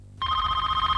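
Telephone ringing indoors, an electronic bell tone that starts abruptly after a brief low background and rings steadily and loudly to the end, with no talking.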